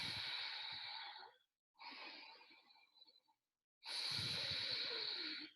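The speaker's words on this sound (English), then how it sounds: "so this is called as ujjayi breathing" Ujjayi breathing, the oceanic throat breath used in yoga and meditation: three close, soft hissing breaths with audible throat friction, separated by short silences, with no talk.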